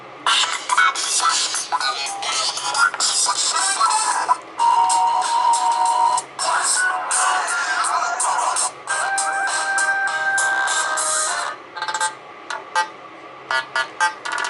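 A Ctroniq Wiz 5 phone ringtone plays loudly, a bright electronic melody of repeating tones that runs almost continuously, then breaks into short bursts near the end.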